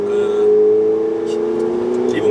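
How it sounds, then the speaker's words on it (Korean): A Ferrari 488 GTB in racing mode drones with a steady engine note while downshifting, and the exhaust lets out a few short, sharp pops near the end. "그 리본 매칭할 때 그 배기가 약간 뽕뽕 한 번씩 터져요"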